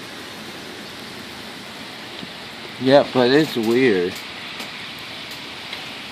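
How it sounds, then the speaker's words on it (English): Wind and rain outdoors make a steady soft hiss throughout, with a person speaking briefly in the middle. "And it's wind and rain."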